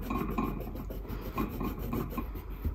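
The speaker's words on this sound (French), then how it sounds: "On entend mon trépied à chaque fois bouger dès que je fais du crayon de couleur sur ce bureau." A Derwent Drawing coloured pencil rubs across paper on a desk, and a tripod standing on the same desk rattles and shakes. The scratchy, steady scraping is close and continuous, with no voice.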